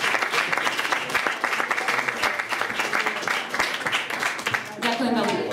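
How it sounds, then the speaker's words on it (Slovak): Audience clapping at an awards evaluation event for a running league, a sustained round of many hands, fairly loud and even, with a few voices murmuring near the end as it tapers. "tak to si zaslúži potlesk"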